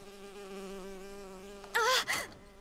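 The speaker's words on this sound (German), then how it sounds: "Oh, eine Biene. Ich hasse diese Viecher." Bee buzzing in the video game Bioshock Infinite, a steady close whine with wavering pitch, then a brief louder burst of sound near the end.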